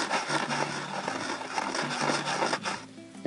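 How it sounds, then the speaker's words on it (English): Steady dry rasping of a small sanding block rubbed over an RC airplane wing's wooden rib, continuous back-and-forth strokes at close range with no talking. "I would just take my small sanding block and just go ahead and hit that"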